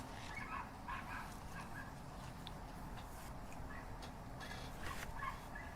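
A dog barks and yips faintly in the distance, scattered short calls over a steady low background hum.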